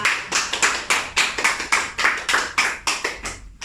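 A classroom of primary school pupils clapping together in a rhythmic unison beat, about twelve sharp claps over a few seconds, close and steady, tailing off at the end.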